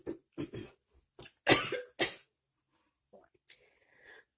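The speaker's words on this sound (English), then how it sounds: "I had to cough." Several sharp coughs from one person indoors, a few close-set bursts with a louder cluster in the middle, followed by faint breathy sounds and quiet pauses.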